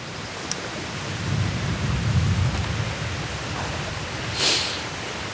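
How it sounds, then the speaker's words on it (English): Distant thunder rolling low and muffled outdoors in a garden, a long swelling rumble under steady rain-like noise, with a faint brighter crackle late on and no talk. "I don't know if you can hear that thunder, but it's getting louder"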